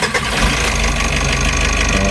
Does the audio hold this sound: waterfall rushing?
no